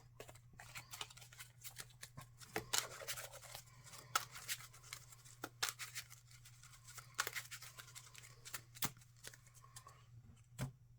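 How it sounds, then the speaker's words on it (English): Playing cards from the Marvel Champions card game are shuffled into an encounter deck, giving crisp, close, irregular riffles and taps that come in quick clusters over several seconds, with no talk. "Now I can shuffle these into the encounter deck."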